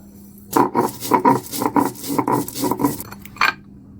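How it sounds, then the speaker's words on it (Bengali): Coriander seeds are ground by hand on a flat grinding stone for Bengali chicken malai curry: a close, steady run of about seven rhythmic scraping strokes, each a rough rasping push, with no talking. "এবারে ধনে বাটবো"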